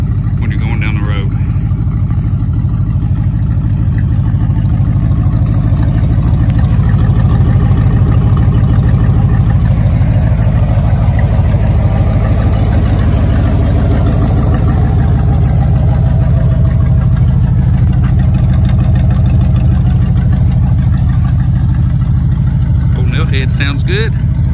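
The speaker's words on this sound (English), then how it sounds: "now I have a 1960 Buick that sounds like a farm truck / World War II bomber plane when you're going down the road" A 1960 Buick engine with a cut exhaust rumbles loudly and steadily, a deep, rough drone like a farm truck or bomber plane, with a person talking over it.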